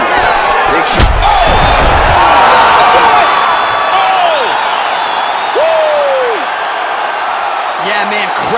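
A sports arena crowd roars and cheers at the end of a UFC fight in EA Sports UFC 5, a dense, steady wall of noise with a loud slam near the start, running under the game's ambience throughout.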